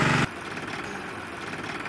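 Engine of a 45 hp KZH tractor or power tiller running at a steady idle during a field demonstration, a close, even, rumbling drone after a brief louder burst at the start.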